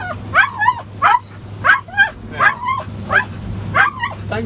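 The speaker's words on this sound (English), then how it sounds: "Yes, that's the dog. Sorry, you see, the dog's seen a pheasant." Dog excited by a pheasant, giving a rapid series of about eight high yips and whining barks in an uneven rhythm, close and loud over a low steady hum.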